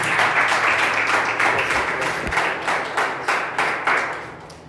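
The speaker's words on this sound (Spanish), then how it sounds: "Lo recibimos con un fuerte aplauso." A church congregation claps and applauds to welcome a visiting pastor onto the stage, a steady, fairly loud wash of hands with a few sharper rhythmic claps and pulses running throughout.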